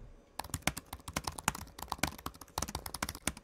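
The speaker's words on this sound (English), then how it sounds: "really love the loud, clicky keyboards" A loud, clicky mechanical keyboard is typed on rapidly and forcefully, giving dense, sharp clacks in irregular bursts, close and prominent with no talking.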